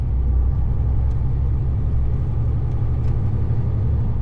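Truck engine pulling under full throttle in traffic, a steady low rumbling drone that holds constant and loud close by, with no talking.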